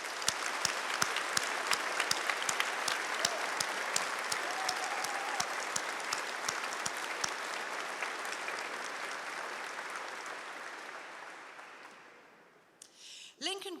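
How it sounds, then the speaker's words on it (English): Sustained applause from an audience at a University of Lincoln graduation ceremony, a dense wash of clapping with a few sharp individual claps, gradually thinning and fading out near the end. "giving them a round of applause to show your appreciation"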